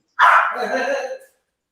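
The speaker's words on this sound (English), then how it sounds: "What kind of dog you got over there, Eddie?" A dog gives one loud, close, drawn-out bark that trails into a whining yip, heard alone with no speech over it.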